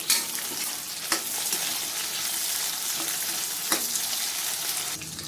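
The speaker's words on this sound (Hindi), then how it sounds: "प्याज भूनने के बाद इसमें एक कटे हुए टमाटर डाल देंगे और इसको भी हम भून लेंगे" Chopped tomato frying with onions in a pan for potato and parwal curry, a dense steady sizzle broken by a few sharp clicks of a spoon against the pan, no talk.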